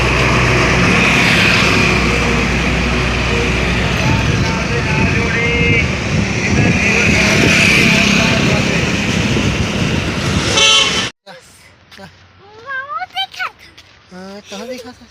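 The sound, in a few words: road traffic with vehicles passing and honking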